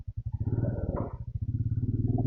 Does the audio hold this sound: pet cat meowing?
no